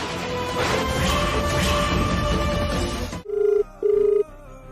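A telephone rings twice in steady electronic tones after a loud, busy passage cuts off abruptly.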